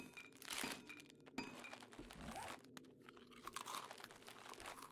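An MRE is eaten in the 7 Days to Die video game, giving crisp, close crunching and chewing bites in irregular bursts, fairly quiet.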